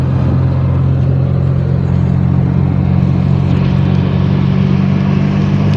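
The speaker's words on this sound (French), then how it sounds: "Le moteur il ronronne comme pas possible, il demande que ça." A Fiat X1/9's engine, mounted just behind the seats, idles steadily with a smooth, continuous low purr and even hum, close and unbroken throughout.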